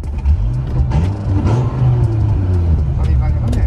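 A Dodge Viper's engine, low on fuel, cranks and catches, then revs up and down with rising and falling tones while someone talks close by.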